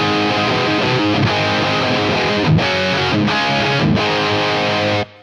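Electric guitar played through a BT MkV amp on preset D, a darker, warmer rock setting. It is a continuous loud distorted chord riff with brief rhythmic breaks, then it cuts off abruptly at the end, with no talk.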